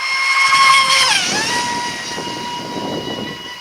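A 26-inch Diggerwasp mono RC boat running at full throttle, a loud sustained high-pitched motor whine with a pitch that dips and shifts as it passes, steady water hiss beneath, fairly close, no talking.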